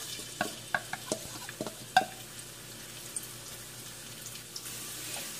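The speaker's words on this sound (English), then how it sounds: "Okay, let's saute our garlic." Garlic sautés in canola oil with a faint, quiet sizzle, punctuated by scattered clicks and taps of a utensil stirring in the pan.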